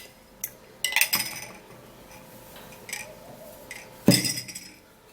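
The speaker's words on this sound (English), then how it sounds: "then you're going to stir it again" Milk and egg stirred together in a cup, a spoon clinking against the sides in a few short bursts with quieter scraping between, close and fairly loud, no talking.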